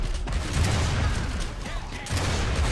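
Gunfire in Gears of War Judgment: dense, continuous volleys of shots with booming low thumps, loud and close, pausing briefly before resuming.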